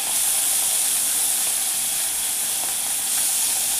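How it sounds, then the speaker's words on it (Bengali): Small mourala fish fry lightly in hot oil in a pan, giving a steady, loud, close sizzle and hiss throughout with no talk. "এখন কিছু ভেজে নিচ্ছি, পরে আবার কিছু ভেজে নেব"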